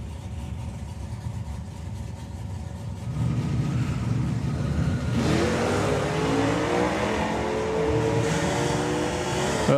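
A drag racing car at a summer nationals event rumbles at the line, then launches with a loud, sustained engine roar that climbs in pitch as it accelerates down the strip, heard from a distance over steady crowd and track noise.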